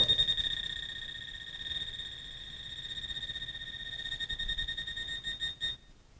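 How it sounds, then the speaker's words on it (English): A small handheld metal detector sweeping for rebar gives a steady high-pitched beep. The tone breaks into rapid pulses that grow stronger toward the end, then stops abruptly. "this is my little metal detector from Detector Warehouse. And we are going to try and find the rebar"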